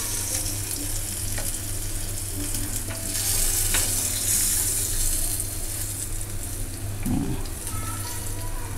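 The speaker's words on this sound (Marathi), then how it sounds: "आता मीडियम गॅसवरती आपण दुसरी बाजू पण भाजून घ्यायची" Stuffed bangda (Indian mackerel), coated in rice flour, frying in a pan on medium gas with a steady, close sizzle and crackle throughout, a brief louder spatter near the end and faint background noise.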